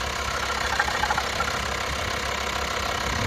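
Volkswagen Transporter TDI diesel engine idling smoothly, a steady close-up rumble with a light, even diesel clatter and no voices.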